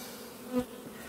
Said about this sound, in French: Les abeilles naissantes ici, là, vous les voyez, elles sortent.